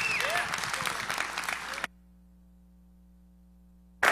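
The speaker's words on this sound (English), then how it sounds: "So please give him a warm round of applause." An audience at a science and faith talk claps in a warm round of applause that runs for about two seconds and then cuts off abruptly into near silence.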